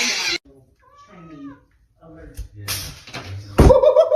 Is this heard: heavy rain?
no